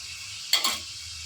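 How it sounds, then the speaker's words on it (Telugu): Cumin, turmeric and rock salt in a frying pan are stirred once, giving a quick, close gritty scrape with a faint sizzle, brief and alone against a quiet background. "ఇదంతా కూడా బాగా మిక్స్ అయ్యేలా కలుపుకొని గోల్డెన్ కలర్లోకి వచ్చేంత వరకు ఫ్రై చేసుకోవాలి"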